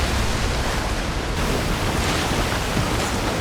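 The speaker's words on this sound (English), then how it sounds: "You get really angry if there's so much water splashing on you." Water splashes and churns in a water temple boss fight in The Legend of Zelda: Tears of the Kingdom, a dense, loud, continuous wash of surf-like noise filling the whole moment.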